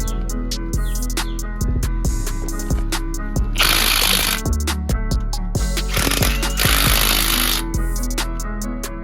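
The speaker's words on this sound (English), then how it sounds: "This is me putting on the last couple of lug nuts." Impact wrench rattling in short bursts while tightening the last lug nuts on a BMW F10 535i wheel, with sharp clicks and two longer loud whirring runs, close up in a garage.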